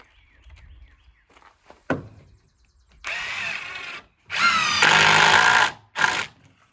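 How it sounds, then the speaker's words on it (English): A power drill drives screws down through 2x4s into a trailer floor, with three separate whirring bursts close by, the middle one longest, between quiet pauses and a few knocks. "What I'm going to do is just run screws all the way down through and put nuts on them"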